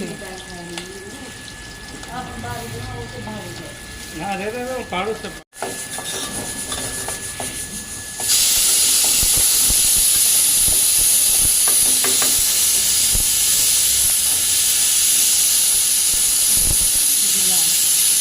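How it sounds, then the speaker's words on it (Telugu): Liver hitting hot oil in a pan, a loud, steady hiss and sizzle that starts suddenly and keeps going. Earlier there is quieter talk and kitchen clatter. "ఇప్పుడు లివర్ ఫ్రై చేస్తున్నారు, ఆయిల్ వేసుకుంటున్నారండి."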